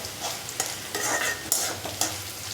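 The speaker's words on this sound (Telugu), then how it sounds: "పప్పును అరటికాయ వేపేసి ఇలా పెట్టండి" Raw banana slices frying in a pan, soft sizzling with several brief scraping stirs of a spoon, close and fairly quiet, no voices.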